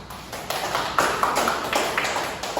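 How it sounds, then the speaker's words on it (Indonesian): A small classroom group applauds a presenting student group: a short, fairly close burst of scattered hand claps that comes in uneven waves and fades after a few seconds, with no speech over it. "Terima kasih kelompok 1, beri aplaus dulu"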